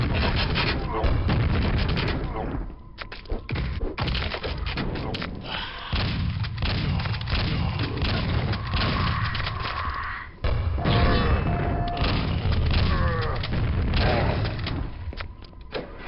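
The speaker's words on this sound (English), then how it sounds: "I get my grenade launcher ready as I'm coming down this elevator and pre-firing some grenades around the corner to kill some enemies" Quake grenade launcher lobbing grenades around a corner while riding down an elevator, a steady stream of heavy thumps and booming blasts with continual gunfire-like bursts, loud and close throughout.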